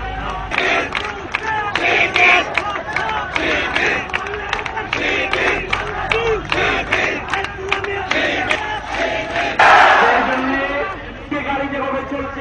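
Students march in a protest procession on a city street, a crowd chanting loud rhythmic slogans in repeated bursts that swell near the end, with shouting voices layered over the steady roar of the gathering.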